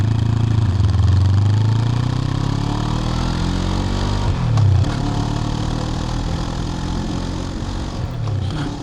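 A 2026 Moto Morini X-Cape 700 engine with stock exhaust runs steadily and loudly while riding, its pitch rising and dipping as it revs through gears, with no voices.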